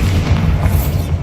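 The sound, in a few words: Bombarda explosion spell from Hogwarts Legacy video game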